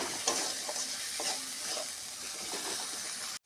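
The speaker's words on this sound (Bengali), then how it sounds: "মশলা কষানো হয়ে গেছে।" Spices sautéing and being stirred in a pan for jackfruit cutlets, a steady close sizzle with occasional spatula scrapes running throughout, no voices.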